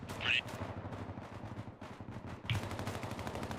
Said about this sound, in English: 1-2's taking grenade launchers from the tan building southwest of our